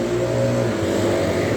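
A car accelerates past on a street, its engine revving loud and close in one sustained mid-pitched rush that holds steady through the short moment.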